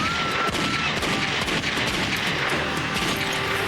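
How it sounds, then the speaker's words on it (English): Gun battle between Colorado State Patrol troopers and fugitives on a highway roadside, a rapid volley of sharp cracking shots that clatter continuously and loudly, with no talking over them. "When the gun battle starts, Trooper Smith reacts from the rear."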